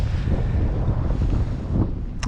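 Strong, damp north-westerly wind buffets the microphone in a steady, loud roar that rumbles without a break, with no voices, on the ice of the Pechora River during ice fishing.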